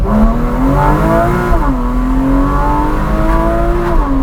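A Porsche 981 Cayman S engine with Fabspeed F1 headers revs steadily up and down, its exhaust rumbling loud and close, with the pitch rising and falling in long sweeps and no talk.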